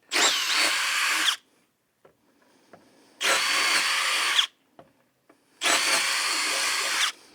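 A power drill bores a 1/4 inch hole through a rod and cup holder mount, three loud sustained bursts of about a second and a half each, separated by short quiet gaps with small clicks and taps.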